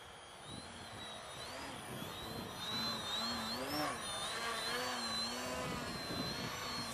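A Grayson Hobby Yak 55 radio-controlled model airplane's motor whines steadily, rising and falling in pitch as it flies overhead at moderate distance, with a faint breezy background.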